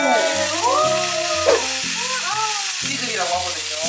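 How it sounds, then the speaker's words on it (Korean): Oyster mushrooms fry in a pan in a home kitchen with a steady, close sizzling hiss that runs throughout, while people talk over it. "지글이라고 하거든요. 지글지글."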